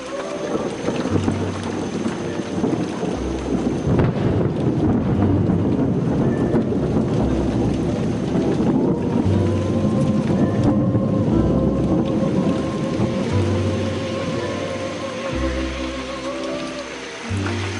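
Heavy rain pours steadily throughout, a dense continuous roar with low rumbling underneath, loud and close, with no voices.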